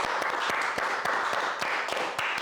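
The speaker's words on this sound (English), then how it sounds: "Round of applause, y'all." Steady applause from an audience during a podcast introduction, continuous dense clapping with a few sharper individual claps standing out, close and loud throughout with no talking.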